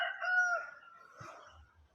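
A rooster crows once, fairly close, a drawn-out rising and falling call that fades into a quiet, low background.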